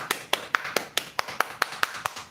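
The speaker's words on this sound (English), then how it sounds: "I want to be serious when I clap my hands." Sharp hand claps in a steady rhythm, about eleven in two seconds, close and alone with no talk.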